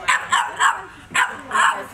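A Shiba puppy at puppy school gives a quick series of five sharp, close yips and barks in two bursts.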